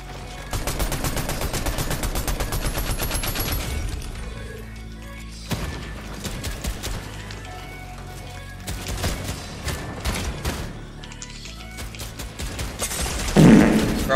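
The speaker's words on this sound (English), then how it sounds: "I got like 3 people shooting at me" Gunfire in a ranked Fortnite match: loud rapid bursts of automatic shots, then scattered single shots and short volleys, with a pause midway and a sharper burst near the end.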